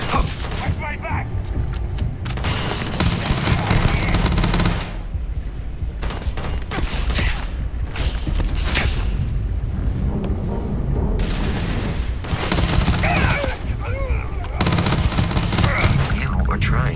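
Sustained gunfire from a Starfield firefight, bursts of rapid automatic shots with loud booms that run through most of the scene, pausing briefly between volleys, with voices talking over the shooting.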